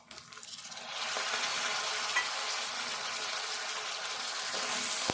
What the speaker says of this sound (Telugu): ఇట్లా వేగినాక ఇప్పుడు ఈ టమాటో వేసుకుందాము.